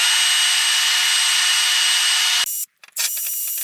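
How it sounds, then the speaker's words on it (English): Wire brush scrubbing grime off a Mercedes M117 intake manifold: a loud, harsh, continuous scraping for about two and a half seconds, then a sudden stop followed by short choppy strokes that build back into steady scrubbing. "let's see if we can do a little damage with this wire brush so we can see what we're doing here"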